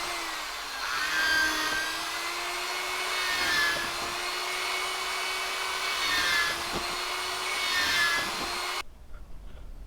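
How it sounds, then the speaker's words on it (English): Power drill boring stitching holes through a knife sheath, a sustained whine that rises and dips in several passes before cutting off abruptly near the end. "I will start drilling out the holes."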